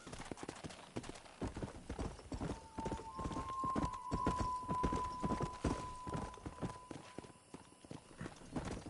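Steady, rhythmic hoofbeats of a horse being ridden in Red Dead Redemption, close and continuous throughout, with a faint sustained tone drifting in the background.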